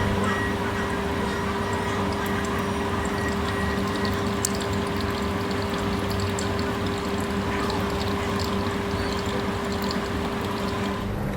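Hot water is poured in one steady, continuous stream over ground coffee in a V60 filter at a busy café in Vienna. A close, even hiss with a faint mechanical whine underneath runs unbroken throughout, with no talk.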